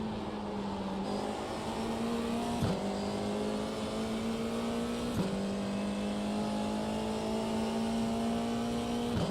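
Steady, loud GT3 race car engine roar in a racing video game, holding a high drone with brief dips at each gear shift, running alone with no talk.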